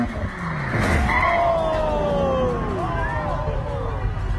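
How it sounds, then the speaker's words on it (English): Tires skid and squeal in long sliding, pitch-shifting wails from cars in a road chain-reaction crash, loud and close over engine noise and a murmur of voices, with no clear impact. "A car crash turning into an automatic chain reaction."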